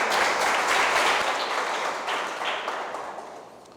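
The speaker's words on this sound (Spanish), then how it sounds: "Yo creo que Dios se merece un aplauso por eso." A church congregation gives loud, dense applause that fades gradually toward the end, with no speech over it.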